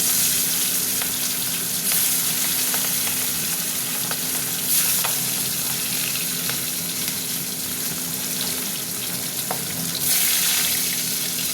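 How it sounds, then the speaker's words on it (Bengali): Pieces of rohu fish frying in hot oil in a wok, a loud continuous sizzle with small crackles and pops, close up and without talking. "মাছগুলো ভাজা হতে থাক"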